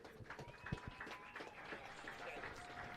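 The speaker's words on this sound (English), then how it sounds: "let's have one more round of applause for this amazing group of seniors" A crowd at a college football game applauds faintly in an open stadium for the seniors, distant scattered clapping mixed with background noise and a few cheers.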